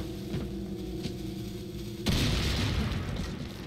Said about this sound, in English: We set off the explosives.